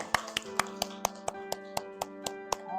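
A few people clap for the winner of a classroom game during an Indonesian language lesson, giving about a dozen evenly spaced, crisp claps over a steady hum, close and fairly quiet.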